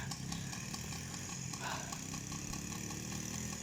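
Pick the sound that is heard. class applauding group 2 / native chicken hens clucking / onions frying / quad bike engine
quad bike engine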